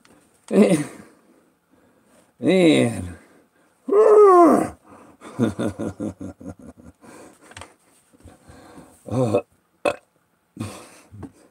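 A person imitates an elephant belching, giving several loud, drawn-out guttural belch-like groans with pauses between them, followed by shorter broken vocal sounds that trail off.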